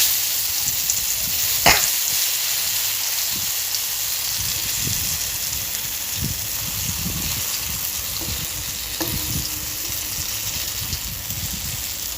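Steady sizzling of chana dal fritters frying in hot oil, a continuous crackling hiss with a few soft clicks and taps of a utensil as they are turned.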